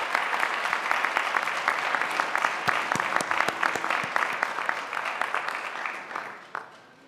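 Audience applause at the Longfellow High School 2022 graduation ceremony: dense, steady clapping from a large crowd for about seven seconds, thinning and fading out at the end.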